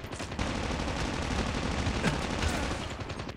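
A weapon in the Call of Duty Mobile video game fires a continuous, loud automatic stream of shots, dense and close for several seconds.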